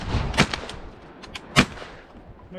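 Shotgun blasts while duck hunting: two sharp, loud reports about a second apart, with a few fainter shots around them, outdoors with no talking.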